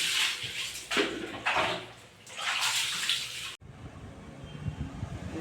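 Water splashes in bursts as a young boy is washed, gushing and sloshing loudly at close range, then cutting to quieter, uneven dribbling and light splashes.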